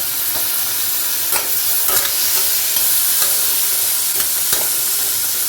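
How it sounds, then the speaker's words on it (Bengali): Prawns are gently stirred into spinach in a frying pan, with ginger added: a steady loud sizzle runs throughout while a utensil scrapes and taps the pan at intervals. "চিংড়ি দিয়ে দিয়েছি এবার একটুখানি নাড়বো আলতো করে"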